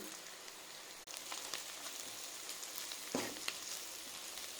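Raw banana pieces cook in a pan, giving a faint, steady sizzle that is broken by a few soft knocks and a brief scrape near the end.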